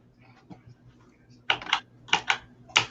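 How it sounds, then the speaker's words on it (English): A worn computer keyboard that is failing clacks in quick bursts of typing close by, with a few quiet taps first and then three loud clusters of keystrokes. "Let's see if we can actually type."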